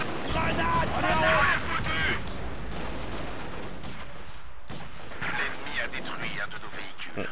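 Battle sounds in Company of Heroes 2 on the Stalingrad mission: a grenade blast and gunfire rumble and crack throughout. A strong burst comes early, with another flare near the end, all under a steady dense din.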